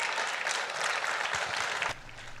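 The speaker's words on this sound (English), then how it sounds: "you can clap for that." An audience claps during a live political commentary stream, a dense, even wash of hand claps that carries steadily and then cuts away abruptly near the end, leaving a quieter background.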